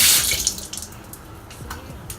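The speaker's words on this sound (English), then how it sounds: "So what I like to do is I wet this sponge a little bit." Tap water runs steadily to wet a sponge, a close, continuous splashing hiss that starts strongest and settles into a softer trickle with small spattering bursts.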